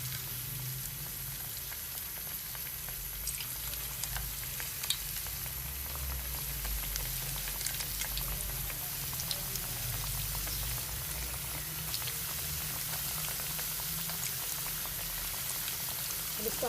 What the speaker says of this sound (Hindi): ऑयल हमारा गर्म हो चुका है। अब इसके अंदर ये डाल देंगे।